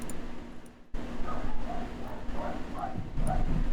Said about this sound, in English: you might hear Travis's dogs barking